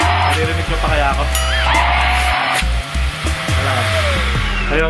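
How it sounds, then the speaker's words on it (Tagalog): A small handheld vacuum cleaner motor runs steadily and loudly throughout, a continuous whirring drone with a briefly shifting pitch, while a person talks over it. "yung ingay niya, natural lang na may ingay ito kasi nga may motor siya tapos vacuum cleaner nga siya"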